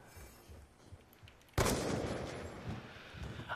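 A single loud sniper rifle shot in a video game cracks out after a quiet lead-in, followed by a long, rumbling, echoing tail.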